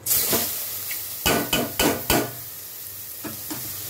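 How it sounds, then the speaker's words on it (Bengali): Washed dalia and masoor lentils drop into a hot pan with cumin tempering, giving a sharp sizzle followed by a series of scraping stirs and clinks of a spoon against the pan, close and clear with no voices. "এবার ডালিয়া আর মুসুরির ডাল ধুয়ে নিয়েছি, এটা দিয়ে দিচ্ছি।"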